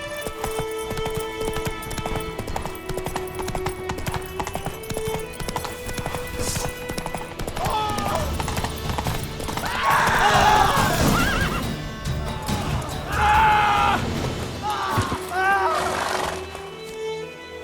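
The horse Roach in the video game The Witcher 3, hooves clip-clopping at a gallop with several whinnies under background music, while characters talk over it.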